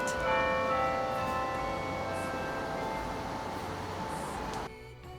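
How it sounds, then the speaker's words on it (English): Church bells ring steadily with sustained, overlapping tones over a low outdoor rumble with singing cicadas in Savannah, Georgia, fading and cutting off abruptly near the end. "the church bells are ringing and the cicada are singing"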